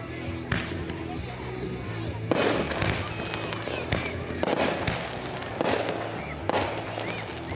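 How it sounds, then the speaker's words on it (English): Dr. Shell artillery shell fireworks bursting outdoors, several sharp booming reports scattered over a few seconds with crackle between them, and people talking throughout. "that's the Dr. Shell artillery shell"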